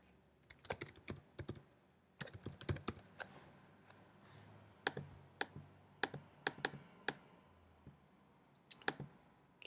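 Typing on a computer keyboard while entering text in Apple Pages, irregular bursts of crisp close key taps with short pauses between, no talking.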